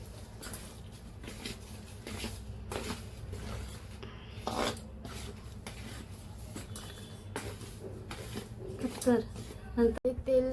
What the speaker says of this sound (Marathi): गरम तेल टाकल्यानंतर असं हे हाताने मिक्स करायचं